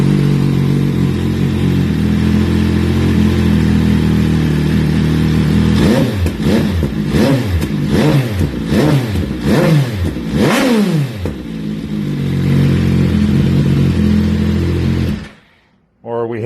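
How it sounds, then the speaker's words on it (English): An MV Agusta Brutale 800 triple with a full titanium exhaust, fully warmed up, idles loudly up close, then gets blipped through a quick series of sharp revs before settling back to idle and cutting off. "We have the MV triple 800 full titanium exhaust."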